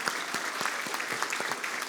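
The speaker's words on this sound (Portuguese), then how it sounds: "Uma salva de palmas para vocês." Brief burst of audience applause at a formal signing ceremony, steady dense clapping from a seated crowd in a hall.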